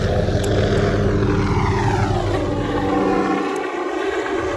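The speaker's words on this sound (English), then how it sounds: "Another helicopter is going by." A helicopter passes overhead with a steady, loud rotor and engine drone that fills the scene, its tone sliding as it moves by, then thinning out near the end.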